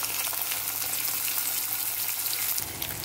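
Steady, dense sizzling of onions and green chilies frying in hot oil for bitter gourd curry, continuous and close, with no voices.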